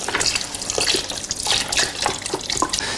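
Filtered water pours steadily into a soup pot for a gluten-free chicken root vegetable soup, a continuous close splashing gush with bubbly, irregular surges.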